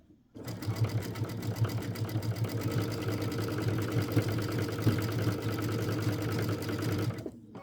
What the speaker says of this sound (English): Make sure you catch both rows as you sew.